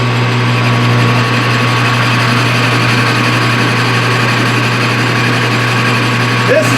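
Metal lathe facing off the end of a metal shaft, a steady close motor hum and whine with a faint cutting hiss, running evenly throughout without talk.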